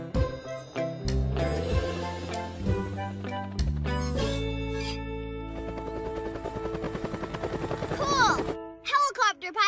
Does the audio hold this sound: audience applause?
no